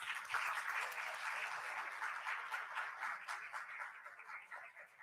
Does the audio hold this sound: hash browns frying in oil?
no